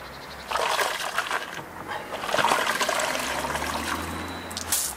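A dirty wheel-cleaning brush is rinsed in water, giving a close sloshing and trickling wash that swells after a quiet start, continues in uneven splashes and ends with a brief splatter.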